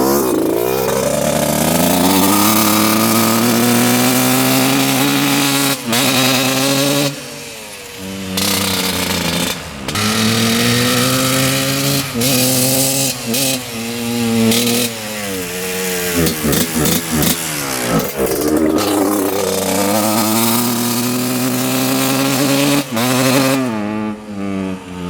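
A used $500 dirt bike is ridden up through the gears while its engine bogs, a loud, close, rasping engine note that climbs, falls and stumbles as the gears change, with brief dips between pulls throughout.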